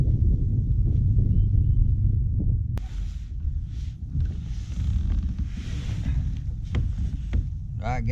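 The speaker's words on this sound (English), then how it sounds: "I hope that's not the case today, because that wind is ice cold" Wind gusts and buffets the microphone on a fishing boat out on open water during a winter storm, a steady low rumble with waves beneath it and a few faint clicks and knocks.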